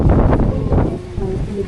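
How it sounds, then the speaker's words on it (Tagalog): Strong wind on the peak of Fansipan in Sapa, Vietnam, buffeting the microphone in loud rumbling gusts that ease off toward the end. "Ay, ang hangin!"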